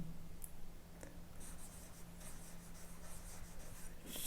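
Pen writing out a worked solution to a circle-area maths problem, a soft continuous scratching of strokes under a low steady hum, close and fairly quiet, with no voice.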